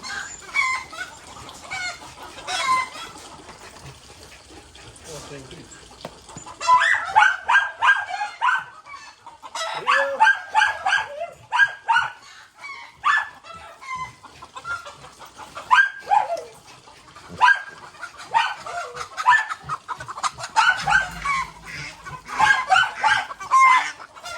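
Chickens cluck and squawk repeatedly at close range, with occasional dog barks mixed in and a rooster crowing now and then.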